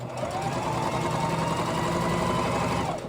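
Sewing machine running steadily while stitching down-filled underquilt fabric, a continuous close, even mechanical whir and hum lasting throughout before stopping at the end.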